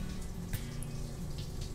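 Running water from a shower in a video game, a steady close hiss of spray with faint splashes, brief and continuous.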